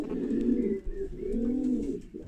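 Racing pigeons coo inside a loft, several soft, throaty rolling calls overlapping close by in a continuous murmur.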